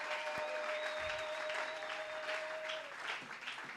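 A church congregation bursts into sustained applause and acclaim for the king of kings, a dense steady wash of clapping with a held high cheer or ululation over it, fading slightly near the end.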